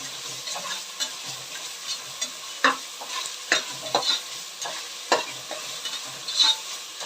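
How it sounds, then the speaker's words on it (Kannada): Chopped onions sizzle in a pan with ginger garlic paste while cooking a fenugreek-leaf rice dish, a soft steady frying hiss broken by repeated sharp scrapes and clinks of a spoon stirring, close and without speech. "ಈರುಳ್ಳಿ ಹಾಕಿ ಸ್ವಲ್ಪ ಹೊತ್ತಾದಮೇಲೆ ಶುಂಠಿ ಬೆಳ್ಳುಳ್ಳಿ ಪೇಸ್ಟ್ ಕೂಡ ಸೇರಿಸ್ಕೊಬೇಕು"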